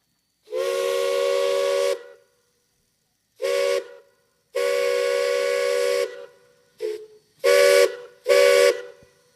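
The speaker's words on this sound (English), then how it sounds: "the sound on that L&M whistle was a little crisper than the first time" An L&M steam whistle sounds at a Kentucky steam whistle blow, a loud, chord-like tone in six blasts. The first and third are long, the rest short, with hissing steam at each start and no talk.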